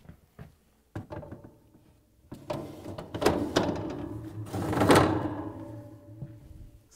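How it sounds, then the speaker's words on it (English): The plastic lower drawer of an LG/Kenmore refrigerator slides along its rails into place, a close series of scraping rubs and hollow knocks and thunks that builds toward a louder push near the end. "Install the lower drawer."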